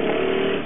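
A boat engine runs unevenly as it struggles to settle into an idle, a close, buzzing mid-pitched drone for a brief moment with no voices.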